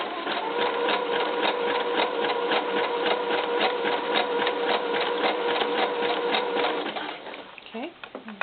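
A sewing machine stitches fabric for doll underwear in a fast, steady mechanical chatter for about seven seconds, then stops, followed by a brief voice.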